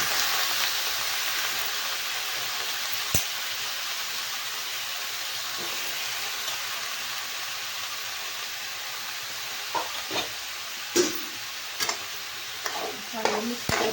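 Brinjal and potato pieces frying in a pan, a continuous broad sizzle with spatula scrapes growing more frequent and clattery toward the end, no speech.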